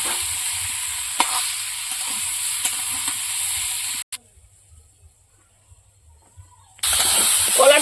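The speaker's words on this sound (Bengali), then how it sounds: "এবার ভালো করে কলাটা কষিয়ে নেব।" Bananas coloured with turmeric are stir-fried in a pan, giving a loud close sizzle with scraping stirs. The sizzle drops out to near silence for a few seconds, then returns strongly.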